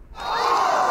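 A crowd sound effect of many voices rising together into a sustained, loud, shocked gasp and murmur that swells in after a brief quiet start and holds steady.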